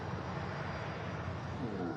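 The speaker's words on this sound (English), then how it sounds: "A beautiful aircraft on the way out." A Gulf Air Boeing 787 departing Manchester Airport, its jet engines producing a steady, loud, broadband roar that holds constant with no speech.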